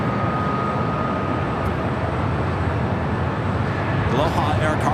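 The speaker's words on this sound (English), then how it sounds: "Another heavy, heading to 25 right for takeoff. Japan Airlines Flight 15, heading back to Tokyo Haneda." A Japan Airlines heavy jet bound for Tokyo Haneda takes off from runway 25 right at LAX, heard as a loud, steady, broadband engine roar that swells slightly toward the end.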